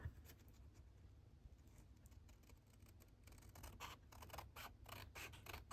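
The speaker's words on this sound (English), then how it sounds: "Take it out and then you take your scissors." Scissors snip through a paper envelope close by, quiet scratchy cuts that grow denser and more rhythmic toward the end, with no voices.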